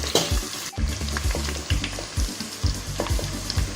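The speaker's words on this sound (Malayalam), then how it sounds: "ഇനി ചുവന്നുള്ളിയും തേങ്ങയും കൂടി നന്നായി ഒന്ന് വഴറ്റി കൊടുക്കാം." Shallots and coconut pieces sautéing in a pan for Kerala-style beef peralan, a steady sizzle broken by repeated scraping strokes of a spatula, close and fairly loud with no talking.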